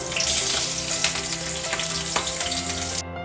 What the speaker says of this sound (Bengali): কড়াইতে তেল গরম হয়ে গেছে তারপরে একে একে কেটে রাখা ধানে প্রথমে দিয়ে দেবো কাঁচামরিচ তারপরে দিয়ে দেবো পেঁয়াজ কুচিটা